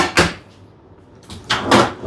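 A hotel suite drawer slides open with a brief rumbling scrape, a pause, then slides shut with a longer scraping push, close and fairly loud.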